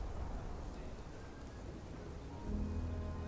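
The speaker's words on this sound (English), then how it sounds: "Ooh, I'm out in the rain." Rain falls steadily in a video game environment, a dense even hiss of drops with a low rumble swelling near the end, playing alone without any voices.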